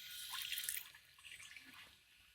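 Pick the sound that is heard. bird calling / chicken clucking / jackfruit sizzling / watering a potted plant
watering a potted plant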